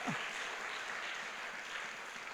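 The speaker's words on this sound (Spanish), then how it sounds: "Dar un aplauso a Cristo" A church congregation applauding, a dense, steady wash of clapping from many hands that fills the room without a break, with no voices over it.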